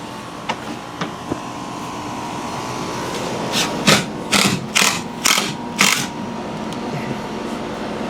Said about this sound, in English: you really shouldn't use an impact gun on that